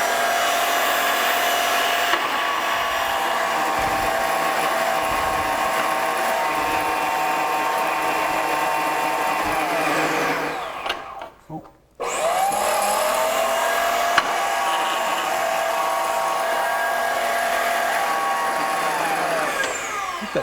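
A metal band saw cuts steel stock in a workshop with a steady, loud grinding whine. The cut continues for several seconds, breaks off briefly near the middle, then resumes at the same level, with no voices.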